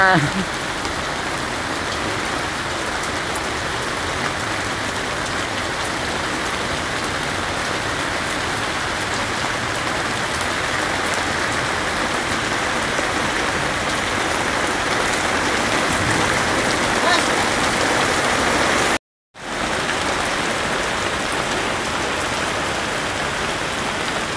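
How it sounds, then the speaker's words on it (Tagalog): Heavy rain pours down steadily in Fairview, a dense, constant hiss of drops striking surfaces that holds loud and even throughout, broken only by a brief dropout near the end. "ang lakas ng ulan o"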